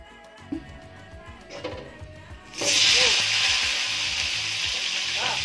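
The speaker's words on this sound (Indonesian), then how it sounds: "Jadi kita goreng dulu." Tomatoes, curly and bird's eye chilies, shallots and garlic for sambal drop into hot oil and burst into a loud, steady sizzle after a few soft clinks and stirs.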